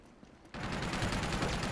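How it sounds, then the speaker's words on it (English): A turret gun in the video game Uncharted 2 opens fire after a quiet start, then keeps up a dense, rapid stream of loud, rattling shots that continues to the end. "There's a turret gun firing at us"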